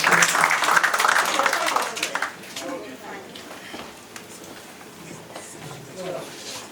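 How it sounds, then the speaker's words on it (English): An audience claps loudly for a professor emeritus at a leadership training programme, then the applause fades and a speaker begins talking over its tail. "It's a round of applause for Professor."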